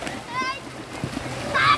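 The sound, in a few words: children splashing in rainwater on a flooded field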